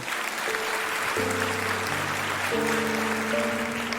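An audience applauds a guest speaker at an interview event, a soft, even patter of clapping at some distance with a sustained tonal hum running beneath it.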